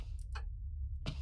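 A video game clock ticking loudly, with a few crisp ticks separated by a pause, close and isolated over a low steady hum.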